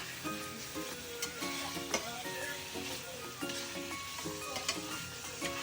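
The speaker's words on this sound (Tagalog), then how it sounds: "Tapos haluin natin para yung lasa manuot sa loob" Chicken curry with basil stirred in a hot pan, sizzling steadily throughout, with a spoon scraping and now and then knocking against the pan.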